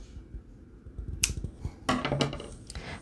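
Scissors snip a yarn end after crochet work, a few sharp close cuts among light rustling and handling clicks, quiet and without talk.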